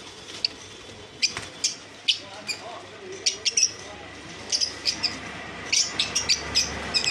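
Cage birds such as cockatiels, Java sparrows and lovebirds at a bird shop chirp in quick, bright bursts, scattered and then clustering, close and fairly loud over a low room hum.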